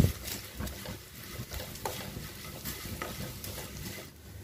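A spoon stirs roasted pappadam with onions in a frying pan, giving soft rhythmic scraping and rustling over a light, steady sizzle, close and fairly quiet, with no speech.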